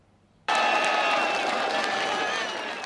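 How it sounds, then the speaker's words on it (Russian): A packed bandy stadium crowd at Sayany arena roars and applauds loudly as veteran players skate out onto the ice, a dense sustained wall of cheering and clapping that starts abruptly and holds steady. "Под рев и овации, заполненных до отказа трибун на лед стадиона Саяны, выходили ветераны бенди"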